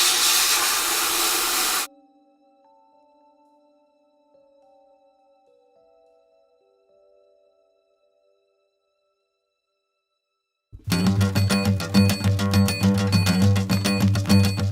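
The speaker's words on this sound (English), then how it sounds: "trying to stir up the media, make sure that I get a good flow of the media through the air that'll actually start" A loud, steady hiss from an abrasive media blaster working on a suppressor part for about two seconds, cutting off into near silence, then a dense, tonal rumble returns at full volume.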